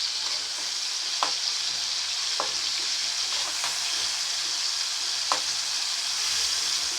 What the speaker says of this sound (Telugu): టమాటాస్ని బాగా స్మాష్ చేసుకుంటూ ఫ్రై చేసుకోవాలి.